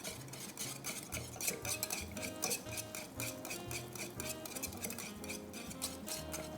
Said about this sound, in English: I'm gonna whisk that in.